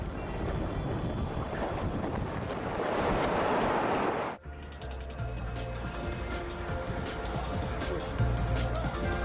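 Typhoon wind and crashing waves over Hangzhou Bay roar loudly in a dense, continuous wash, then cut abruptly to a quieter stretch of rushing water and wind with scattered splashes.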